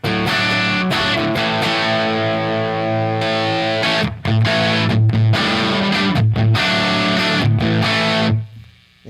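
A Telecaster electric guitar played through a 6L6 tube amp rings out with driven, slightly gritty chords and bluesy licks, loud and continuous, with short pauses between phrases before fading at the end.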